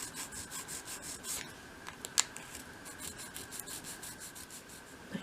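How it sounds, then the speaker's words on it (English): Steady rhythmic rasping of folded sandpaper rubbed back and forth along grooves in wood, close and fairly quiet, with a couple of sharper scrapes partway through. "take a small piece of sandpaper and fold it along a line like that, and then work that along each of those grooves"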